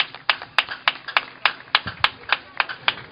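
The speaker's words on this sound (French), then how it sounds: "Applaudissons pour le Seigneur." A small church congregation claps in a steady, fairly quick rhythm of sharp, distinct hand claps, close and moderately loud with no voices over it.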